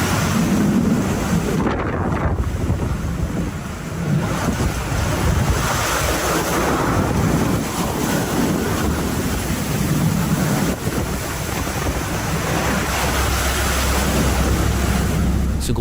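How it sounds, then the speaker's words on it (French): Violent winter-storm waves crash around a fishing boat at sea in the Atlantic, with constant roaring surf and howling wind buffeting the microphone for the whole stretch, loud and unbroken, with no voices. "Ce bateau de pêche a littéralement perdu l'équilibre au cœur d'une tempête hivernale en Atlantique."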